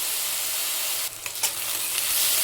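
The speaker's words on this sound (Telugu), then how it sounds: "ఇవి మంచి కలర్ వచ్చే వరకు ఫ్రై చేసుకోవాలి." Chopped onions frying in a pan, a dense, steady sizzle that fills the clip, briefly dipping and crackling around the middle as they are stirred, then settling back to an even hiss.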